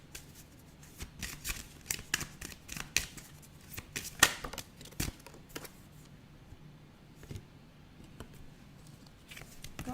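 Oracle cards being shuffled by hand, with quiet papery riffles and slaps arriving in irregular bursts at close range over a near-silent background, with no talk.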